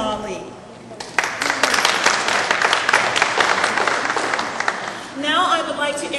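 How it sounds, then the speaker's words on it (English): Applause fills a City Hall room at a cultural diversity foundation fundraiser, loud sustained clapping from a crowd for about four seconds, bracketed by a voice speaking before and after. "we also need to applaud Brothers Ali"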